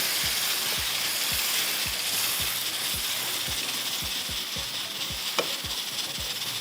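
Mash dal cooks with spices in a pan over a low flame, a soft sizzle running under regular scraping strokes of a spoon stirring at a steady rhythm.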